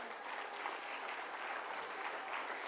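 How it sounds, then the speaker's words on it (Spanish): Church congregation applauding together at a Spanish-language worship service, a dense, steady wash of clapping held at one level throughout, with no voices standing out. "Yo le daría un fuerte aplauso al Señor."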